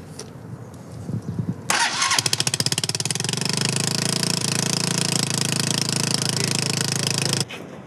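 A homemade fire-fighting motorcycle engine is kicked over and catches, then settles into a loud, steady, rapid mechanical idle that runs for several seconds before cutting off abruptly.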